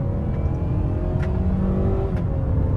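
A 2025 Mazda CX-5 with a naturally aspirated engine accelerates from inside the cabin, a steady loud engine drone with rising harmonics and road rumble, no talking.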